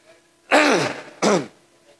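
Two harsh, throaty bursts close to the microphone, a longer one followed by a shorter one, a priest's cough during a Sunday homily in Bisaya, with quiet around them.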